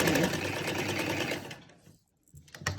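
A sewing machine runs steadily while stitching the doubled seam of a round shirt neckline with lining, then stops and falls quiet before a short burst of handling noise.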